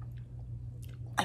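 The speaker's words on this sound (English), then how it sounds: "Ooh, I can't even chew it." Tough, leathery exotic game jerky is chewed up close, with faint soft chewing noises over a low hum, ending in a louder crunchy bite.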